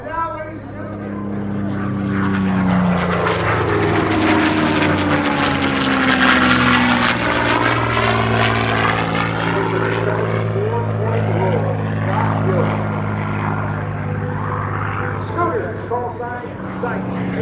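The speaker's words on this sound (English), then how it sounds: "adding to the music of that Merlin, the distinctive whistle" A Merlin-engined propeller aircraft at an air show sweeps past with a loud, swelling engine roar and a distinctive whistle that rises and fades over the fly-by. An announcer talks over it.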